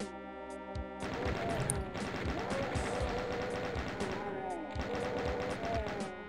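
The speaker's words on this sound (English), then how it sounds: "Then the stragglers, we're gonna chain gun them." Rapid chaingun fire in Plutonia 2, a Doom megawad, sounds as a dense, loud stream of repeated shots. A short pause near the one-second mark breaks it, then it continues steadily with game music running underneath.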